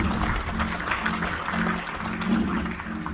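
A theatre audience at a magic and music variety show applauds steadily as a volunteer walks up to the stage, a dense wash of clapping with a faint musical hum beneath it.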